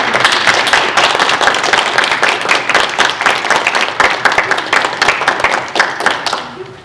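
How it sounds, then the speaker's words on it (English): An audience at a corporate talk about Black women in business gives a round of applause, a crisp, steady clatter of many hands lasting several seconds before tapering off at the end. "how about we give a round of applause to Stanley?"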